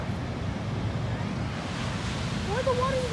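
Ocean waves breaking at a beach on a fine day: a steady, full surf roar mixed with wind across the microphone, and a brief high tonal sound near the end.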